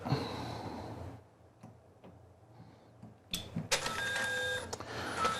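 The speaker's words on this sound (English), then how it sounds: "This will move your printhead off of the capping station." A printer whirs and clicks as its printhead moves off the capping station, first faint ticks and soft mechanical taps, then a louder sustained motor whir with rattling in the last two seconds.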